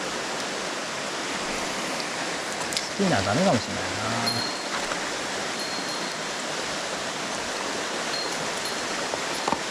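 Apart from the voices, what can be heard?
strong mountain stream current flowing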